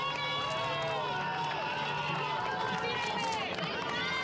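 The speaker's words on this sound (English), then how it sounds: "Good noise for the athlete from Spain there." Spectators line the course at the Valencia Marathon, roaring and cheering steadily for a Spanish runner, a dense continuous crowd noise with whistles and shouts throughout.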